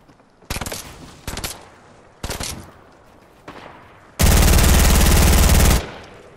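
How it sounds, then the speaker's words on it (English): Gunfire in a Fortnite battle royale match: several short, loud bursts of automatic fire separated by pauses, then one long, heavy, continuous volley close by. "Someone's shooting at us too."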